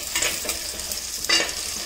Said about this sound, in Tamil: இப்போ இந்த அளவுக்கு வதங்கிடுச்சுங்க